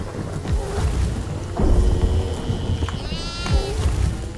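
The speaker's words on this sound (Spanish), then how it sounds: "Aquí hay una cabra, dirección ático." Goat bleating in the horror video game Devour: a wavering, rising cry near the end, set against a dense rumbling game soundscape with dull thumps and scraping noises.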